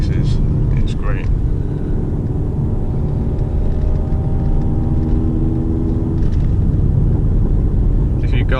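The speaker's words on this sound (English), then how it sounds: "just the noise this thing makes is great" A 2015 VW Golf R Stage 2 drives with a loud, deep engine drone whose pitch rises steadily through a gear, over heavy road rumble inside the car.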